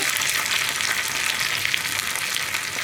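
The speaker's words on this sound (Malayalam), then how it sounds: "ഇനി വറ്റൽമുളകും കറിവേപ്പിലയും കൂടി നന്നായിട്ടൊന്ന് കുക്കായി വരട്ടെ." Dried red chillies and curry leaves fry in hot oil in a pan for parippu curry, giving a steady, loud, close sizzle with a bright hiss that holds evenly throughout, no voices.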